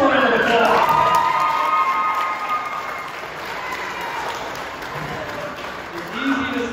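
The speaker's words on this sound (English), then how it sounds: "Let's give her a round of applause." Wedding guests at a reception applaud during the best man's toast. The clapping rises as a broad wash under a voice that carries over its opening, then settles into a steady, moderately loud patter.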